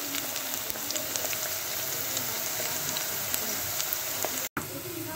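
Onions frying in a pan give a steady, dense, close sizzle and crackle that runs throughout with only a momentary break near the end, no voices present.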